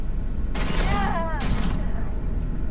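Gunfire in the video game Starfield: a rapid fusillade of close shots bursts in after a brief lull and rattles on, with a voice talking over it.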